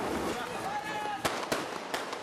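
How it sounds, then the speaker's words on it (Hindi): Firecrackers burst at a street victory celebration in Mandi's Chauhata market. Several sharp, loud cracks come in quick succession over a dense roar of crowd noise and chatter. "जो हम यहाँ पटाखे जला रहे हैं"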